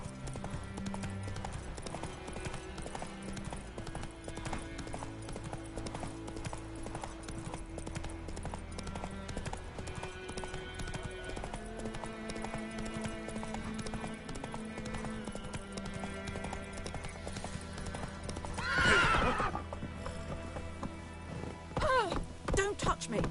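Roach the horse galloping in The Witcher 3, a steady rhythmic clip-clop of hooves under a game music score, with a brief louder burst and voices near the end.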